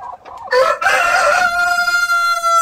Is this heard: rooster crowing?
yes